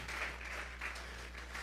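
Steady applause from a church congregation offering praise to God, a dense even wash of many hands clapping at a fairly low, distant level with no voices over it.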